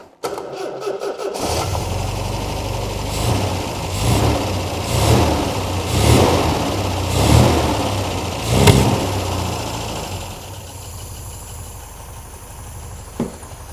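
An MG BGT car engine, unused for years and started with the choke pulled, cranks briefly, catches, then runs with several rising revs before settling into a rough idle, loud and close.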